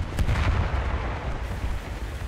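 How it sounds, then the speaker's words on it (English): A ship's main turret gun, a 76mm naval cannon in the combat game War Thunder, booms out in a loud heavy blast with a rumbling low tail that carries through most of the clip, against a continuous battle din. "The main turret's opened up on an aircraft."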